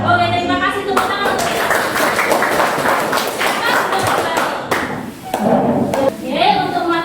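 A classroom of students clapping together, a loud uneven round of hands with thumps and taps, alongside a teacher and children speaking before and after.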